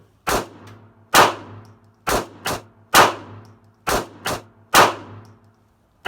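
Sharp, loud pistol shots from a Glock 26 ring out one after another, about eight reports in uneven singles and quick pairs, each with a short ringing tail.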